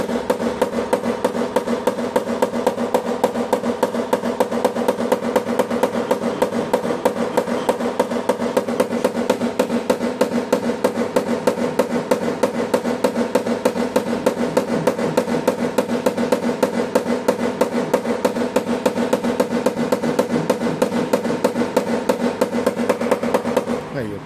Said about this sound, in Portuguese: Peso desse martelo aqui, ó, permite você trabalhar o dia inteiro sem sofrer